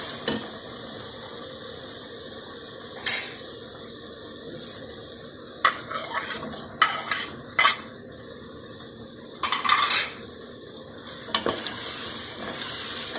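Spices and tomatoes being stirred into palak gosht in a pot, with a steady sizzling bed broken by repeated sharp scrapes and clinks of a spoon against the metal pan, close and without talk.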